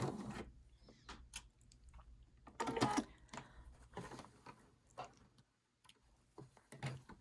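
A home sewing machine stitches a quilt block seam for a lone star or LeMoyne star block, taking one more stitch and then reversing, heard as short, fairly quiet mechanical bursts with pauses between them.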